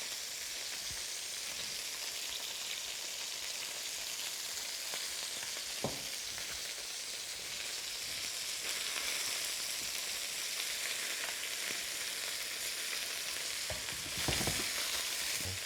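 Teriyaki fish sizzles and fries steadily in a wok, a constant bright hiss with a few soft clicks of chopsticks or utensils against the pan, no talking.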